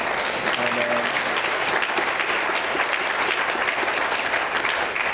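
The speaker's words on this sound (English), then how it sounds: "Yeah, you can clap for that." A crowd at the Newark RFK Awards breaks into sustained applause, loud and even throughout, a thick wash of many hands clapping with no clear break.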